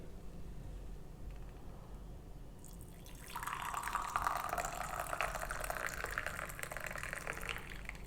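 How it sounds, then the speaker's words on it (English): Hot kadha tea pours into glasses over honey, a soft continuous trickling stream that starts partway through and runs steadily at low volume in a quiet kitchen. "now let's pour over our tea"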